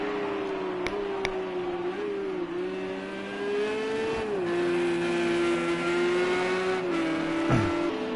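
A GT3 race car, a Porsche 911, races in Project Cars 2 during a Daytona sportscar event. Its engine drones steadily and loudly, pitch shifting slightly through gear changes, with brief sharp clicks and a faint tire squeal.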